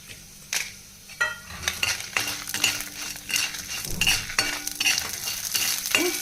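Chillies fry in oil in a pan for ash gourd kootu, a close sizzling crackle mixed with repeated metallic stirring clinks and scrapes of a utensil against the pan.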